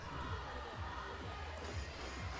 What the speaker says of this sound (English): the Throttle Rockets chants coming up from the crowd